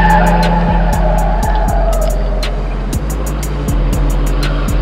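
A car balanced on two wheels skids along, its tires squealing in repeated sharp bursts over a steady, loud engine drone, with no voices.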